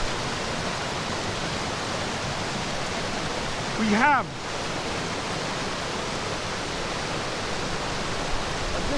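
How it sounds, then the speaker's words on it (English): Waterfalls and river rapids below hills near the Ribblehead Viaduct give a steady, dense rushing roar throughout, with someone speaking briefly over it. "In the background, you have the waterfalls with the hills rising behind."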